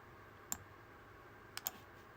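A computer mouse clicks sharply three times while working in UV Layout software, a single click followed by a quick pair about a second later, faint and close in a quiet room.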